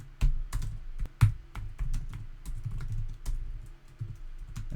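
Someone types on a computer keyboard, close and alone, with irregular bursts of clicking keystrokes and a few louder key taps.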